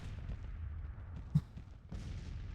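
Distant artillery booms in the Civil War strategy game Grand Tactician, a muffled low rumble with one sharper report midway and a renewed burst near the end.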